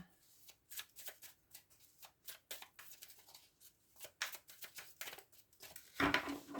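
Tarot cards being shuffled by hand: a steady run of crisp, papery riffles and flicks close up, with a louder burst of card noise near the end, no talking.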